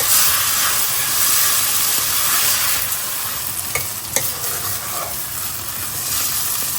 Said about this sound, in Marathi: हो कांदो आतां सारको भाजया आमी.